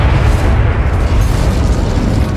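Incendio fire spell cast in Hogwarts Legacy, a loud continuous roaring whoosh of flame with a deep booming low end, steady and close throughout, no voices.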